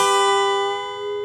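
A Texas blues guitar double stop rings out, one string bent away from the other to mimic a mournful train whistle, a sustained chord-like tone that slowly fades.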